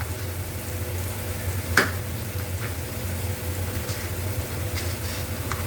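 Finely chopped tomatoes and onions frying in a pan over high gas heat for a mixed vegetable dish, a soft, steady sizzle with a low hum and a single sharp clink of a spoon.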